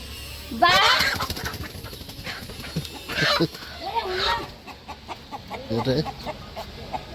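Several roosters cluck and call in short bursts, fairly close, with a few louder squawks scattered across the clip.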